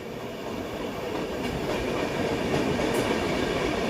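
Howrah Amritsar Mail heard from inside a 3rd AC coach while running: a continuous loud rumbling roar with rhythmic wheel clatter over the rails, steady throughout.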